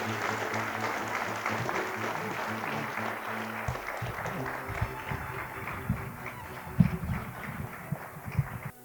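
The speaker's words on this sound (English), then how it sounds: "Please join me in a round of applause as we welcome our laureate, Professor Brownwing, to the stage" Audience at a Kyoto University award ceremony applauds as the laureate comes to the stage, a steady clapping wash over low music-like tones, with a few sharper individual claps standing out toward the end.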